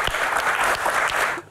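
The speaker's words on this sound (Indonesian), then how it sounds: "Tepuk tangan dong buat Densu." Audience applause at a live Q&A show, a dense burst of clapping that fills the moment and then starts to fade toward the end.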